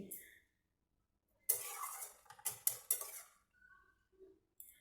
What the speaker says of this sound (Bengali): লাউটাকে আমি নেড়ে চেড়ে সেদ্ধ করে নিচ্ছি, তার সঙ্গে চিংড়ি মাছটাও সেদ্ধ হয়ে যাচ্ছে।